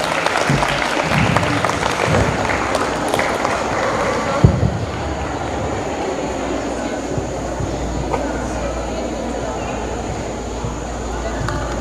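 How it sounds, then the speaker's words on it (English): Audience applause at an award ceremony, a steady wash of clapping that fills the room for several seconds and then thins out, with a voice speaking over it. "Round of applause please."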